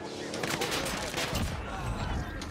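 A turret fires in the video game Call of Duty Warzone Pacific: rapid bursts of gunfire in dense, continuous volleys at moderate level, mixed with game noise while players talk.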